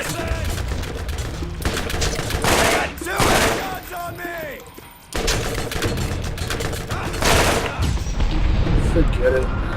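Rapid video game gunfire in Borderlands, bursts of shots and thuds under a loud battle mix, with a pause midway before firing resumes, while people talk over it.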